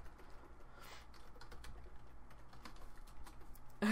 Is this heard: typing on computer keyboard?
yes